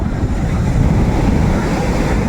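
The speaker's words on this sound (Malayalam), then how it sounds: "കടലെല്ലാം കലങ്ങി മറിഞ്ഞിരിക്കുകയാണ്" Rough sea surf roars continuously at Veli beach, Trivandrum, with heavy, churning waves and gusty wind buffeting the microphone.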